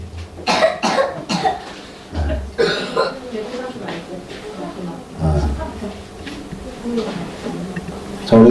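Children cough repeatedly during a Sunday church sermon, several sharp coughs and throat sounds scattered through the room while an adult speaks over them.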